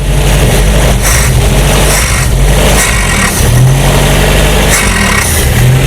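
Engine of a 1968 Commer 2500 van with a carburettor fault revving loudly under the throttle, surging and rising several times and then faltering, close and continuous with no talking.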